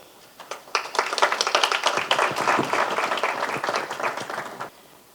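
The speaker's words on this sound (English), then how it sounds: "So I'd like to have a big round of applause for Connie." An audience gives a speaker a round of applause at a business gathering, a dense burst of many hands clapping that swells quickly, holds for several seconds and then stops.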